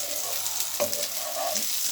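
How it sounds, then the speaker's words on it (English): Red onions, spring onions and red peppers sizzle steadily in coconut oil, with one clear scrape of a stirring utensil partway through and a constant close, hissing fry. "So that's coconut oil, red onions, spring onions and red peppers. Give it a good stir."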